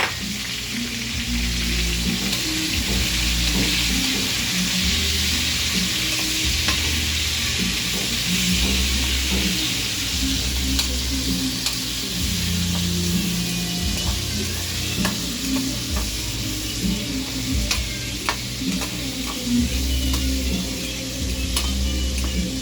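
Sliced onions fry in a hot pan for pork chop steak, giving a continuous close sizzle and hiss. Utensil scrapes and stirring noises recur throughout, with no talking.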